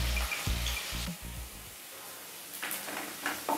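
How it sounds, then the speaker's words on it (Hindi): Sliced onions frying in a pan until brown for a dry chicken dish, a steady low sizzle with soft stirring scrapes, fairly quiet and without speech. "तो प्याज मैंने लिया कट करके। इसे ब्राउन होने तक भुनना है।"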